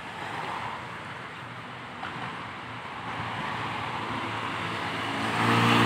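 Highway traffic in front of Santo Domingo Church in Quezon City makes a broad continuous roar of passing vehicles with some wind noise, growing louder toward the end.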